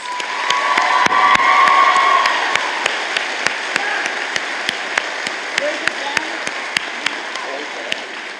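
Audience applause and cheering at a BCIT convocation ceremony honoring an award recipient, steady crowd clapping with some shouts, fairly loud and sustained, easing slightly toward the end.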